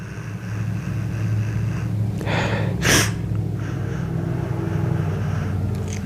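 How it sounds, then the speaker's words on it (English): Someone sniffs a Doritos taco flavored beef stick, two short sharp inhalations close to the microphone over a steady low background hum. "we'll go ahead and give it a sniff."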